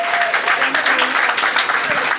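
Audience applause at a live poetry club in Anguilla, a steady wash of clapping filling the room for about two seconds, with voices mixed in underneath.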